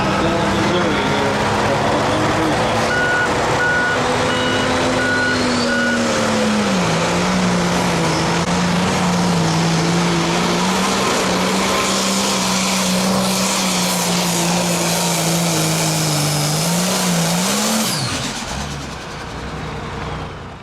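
A pulling tractor at a Pro Pulling League tractor pull in Nashville, Illinois roars loudly and steadily at full power for about twenty seconds as it hooks and leaves the line, with an announcer talking over the engine.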